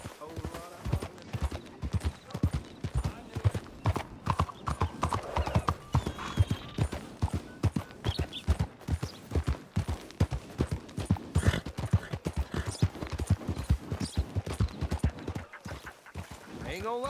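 Steady clip-clop of horse hooves in a Western open-world game, Red Dead Redemption 2, walking rhythmically and close throughout, with voices talking over it and a brief whinny-like sound.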